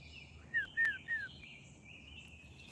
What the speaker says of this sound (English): Oh, the birds sound so pretty.